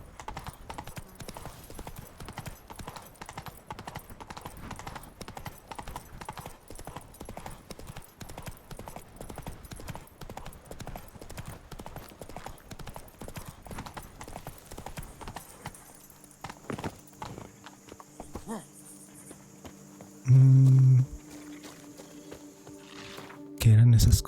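A horse's hooves clop steadily over stones in The Witcher 3 video game, a brisk regular clip-clop that fades toward the end, followed by a couple of loud thumps, with someone talking over it.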